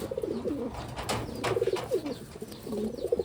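Taiwan pigeons, a mated pair of big birds, coo in soft repeated throaty phrases close by against a steady noisy background.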